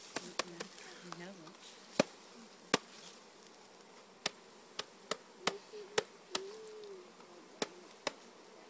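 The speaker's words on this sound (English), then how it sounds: "That's a lot of bees." A package of honey bees hums softly near and far while sharp taps and knocks on the wooden box ring out irregularly, and people talk quietly over the buzzing.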